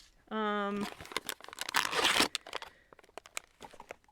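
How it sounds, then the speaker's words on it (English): A blind box package is torn open by hand, loud crinkling and ripping plastic for about two seconds, then softer scattered crackles, after a brief hummed vocal sound at the start. "I'm gonna Hulk my way into this package."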